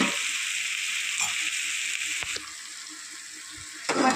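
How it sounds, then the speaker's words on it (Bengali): Marinated mushrooms sauté in a spice masala with a moderate, steady sizzle, and a few light knocks of stirring break through near the end. "মাশরুমটা দিয়েও একটু কষিয়ে নেব"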